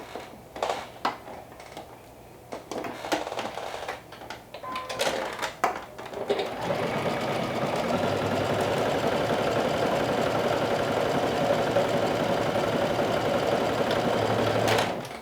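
A sewing machine basting garment fronts together, starting with short stop-start bursts of stitching and then running steadily and continuously at close range.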